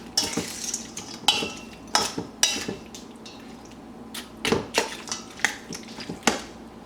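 A spoon scrapes and clinks in a casserole dish as chopped frozen onions are stirred in, a string of irregular close knocks and scrapes with short pauses, no talking.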